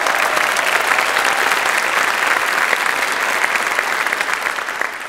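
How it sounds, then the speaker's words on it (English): An audience at a marriage-equality concert claps for a men's chorus, dense sustained applause that fills the space evenly and fades slightly at the end, with no voices standing out. "Will we please give them a round of applause?"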